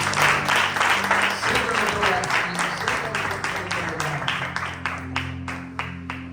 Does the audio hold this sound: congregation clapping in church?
yes